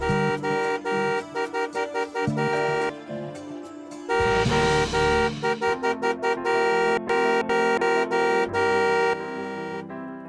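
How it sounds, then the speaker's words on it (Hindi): A car horn honks over and over in rapid bursts, loud and close, with a few long sustained blasts in between. "ऐसे पागलों की तरह हॉर्न क्यों बजा रहा है?"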